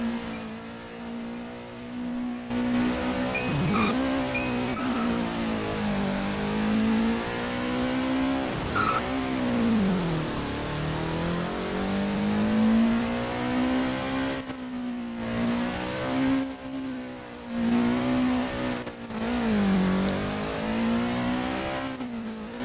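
Expensive cars in a roleplay driving game, engines revving and rising and falling through gears with tire squeal and skids, loud and continuous for the whole stretch, no talking.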